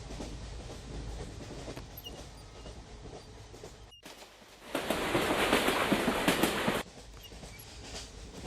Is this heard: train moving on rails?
yes